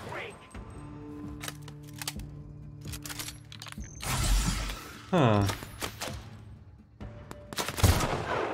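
Sharp gunshots crack out in The Outer Worlds, including from a sniper rifle, with a few separate loud bursts and mechanical clicks against quieter game sounds.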